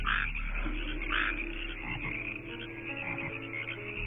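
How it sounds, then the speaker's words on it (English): A frog croaks repeatedly at close range in a summer-camp setting, with short raspy calls recurring over a steady low background and no voices. "Still picking around with the frog."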